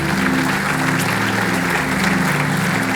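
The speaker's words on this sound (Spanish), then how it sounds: "Dale un aplauso al Señor." A church congregation applauds during a worship service. Dense, even clapping from many people holds at a steady, fairly loud level throughout the short stretch, with no one speaking.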